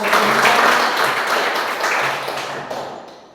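A class breaks into applause, a burst of many hands clapping that starts strong and gradually fades over a few seconds.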